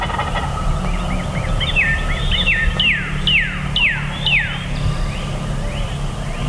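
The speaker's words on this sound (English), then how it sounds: "These birds are just going nuts behind me." Wild turkeys in Iowa at the start of the hunting season gobble repeatedly from some distance, several rolling calls in quick succession over a steady outdoor background.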